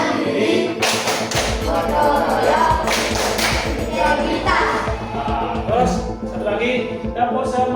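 A classroom of Indonesian schoolchildren performs the rhythmic PPK clapping chant, sharp unison claps in quick patterned bursts with chanted voices, loud and close in an indoor room.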